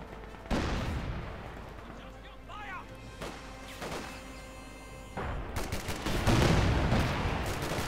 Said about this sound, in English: LEFG 18 howitzers stand ready to fire.